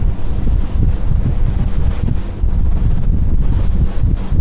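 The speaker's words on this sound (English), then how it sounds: "15 knots, wind over the decks now" Strong wind roars over the deck of a Prestige M48 motor yacht heading into steep waves at about 15 knots, a loud, continuous buffeting rush that fills the clip.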